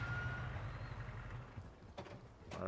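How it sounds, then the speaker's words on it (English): In the video game Call of Duty: Modern Warfare 3, a truck's reversing beeps sound at a distance over a low engine rumble as it pulls up, followed by a couple of sharper hissing bursts like air brakes. "I just heard a truck pull up."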